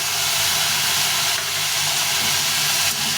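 Water poured onto chilli, ginger paste and spices in a hot pan sets off a loud, steady hissing sizzle that lasts throughout, close up, with no talk.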